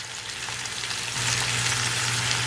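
Onions fry in a tablespoon of vegetable oil in a saute pan, giving a steady, close sizzle that grows a little louder partway through, with no talking.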